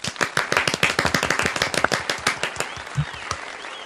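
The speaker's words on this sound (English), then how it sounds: "Big round of applause for my actors" Applause for the actors at a Universal Studios disaster-movie attraction, a small crowd clapping in quick, uneven bursts that thin out toward the end, fairly close and with no talk over it.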